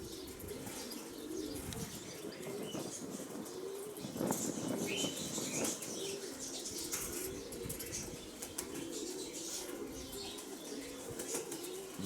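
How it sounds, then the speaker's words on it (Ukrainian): Pigeons flapping their wings in flight amid steady outdoor noise, with faint bird calls and coos mixed in throughout. "щоб поганяти цей голубів трошечки"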